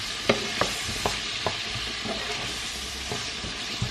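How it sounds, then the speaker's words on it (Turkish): Meat and green beans sautéed with tomato paste in a pan, a continuous soft sizzle broken by regular scraping and tapping strokes of a spoon, moderately close. "Suyunu salıp tekrar çekene kadar kavuruyorum."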